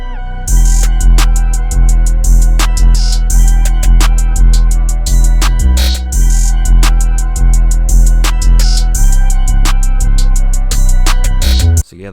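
A loud, dense trap beat made in FL Studio pounds along, with booming 808 bass, hard kicks and rapid hi-hat rolls in a steady driving rhythm, cutting off abruptly at the end.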